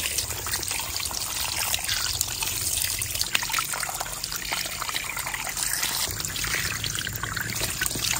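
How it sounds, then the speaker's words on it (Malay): Squid being washed under a running kitchen tap, a steady close stream of water splashing and trickling over the seafood throughout, with no talking. "Kita basuh dekat bawah air mengalir."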